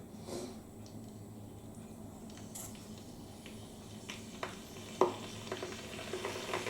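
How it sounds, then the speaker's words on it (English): An electric kettle heats with a quiet, steady hiss and soft crackling, with a few faint ticks and pops rising near the end. "next flick on your kettle and bring it to the boil."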